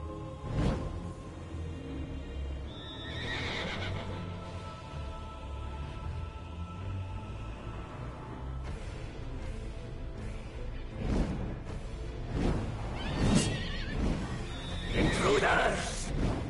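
A horse whinnies and neighs several times with hooves clopping in a video game, while someone speaks over parts of it; the louder calls come near the end.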